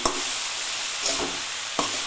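Steady loud sizzling of frying food fills the clip, broken by a few scraping stirs of a spatula in the pan, close up and without speech.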